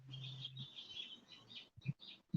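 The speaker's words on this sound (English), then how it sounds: "I can hear the birds already" Birds chirp loudly, a continuous run of high tweets and calls with a few brief low thumps near the end and no speech.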